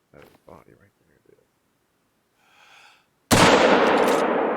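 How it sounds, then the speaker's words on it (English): A rifle fires in the hunting video game Hunter: Call of the Wild, South America map. Brief quiet talk comes first, then one sudden loud blast with a long ringing tail that lasts to the end. "We got 2 shots out."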